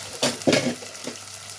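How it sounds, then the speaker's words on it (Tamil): Onion and green chilies stirred and sautéed in a pan for a fish curry, giving a couple of short scraping, sizzling bursts close by, then a quieter tail. "இப்போ வந்து ஒரு பெரிய வெங்காயம் கூட 2 பச்சை மிளகாய் எல்லாத்தையும் நல்லா வதக்கி எடுத்துக்கலாம்."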